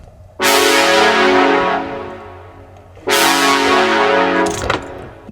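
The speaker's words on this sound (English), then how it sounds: "Low synth brass" A low synth brass patch from Analog Lab plays two long sustained chords, loud and close, each swelling then slowly fading, with a short extra blip near the end.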